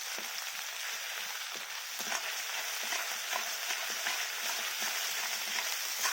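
Ginger and cumin paste fries in hot oil with a steady, fairly quiet sizzle and fine crackle throughout, broken by soft scraping taps of a stirring spoon.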